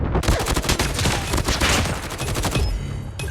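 Dense, loud gunfire in Call of Duty Mobile zombie mode as shots are sprayed blindly into a fight, rapid overlapping bursts filling the whole moment with no speech.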